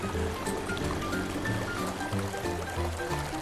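Water rushes and drains out of a flooded barn area in the video game DrainSim, a steady, dense liquid gushing and trickling that fills the whole stretch.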